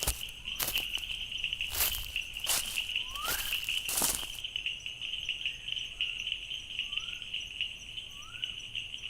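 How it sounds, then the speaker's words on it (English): A bush frog calls in forest where an Oriental Dwarf Kingfisher nests, giving short rising chirps spaced a second or so apart under a constant high insect drone, with several loud close clicks or taps early on. "I'm also looking for the bush frog, which I can hear morning and night, but never seem able to locate it."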